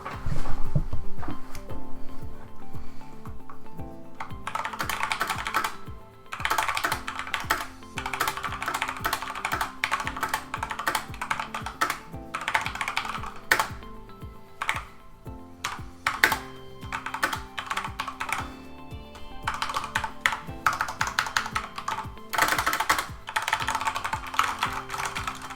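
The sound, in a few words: typing on a Corsair K95 RGB Platinum keyboard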